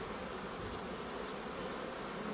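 A close, steady hum of many honeybees buzzing around hive frames while a colony is being transferred between hives, continuous and even with no talking.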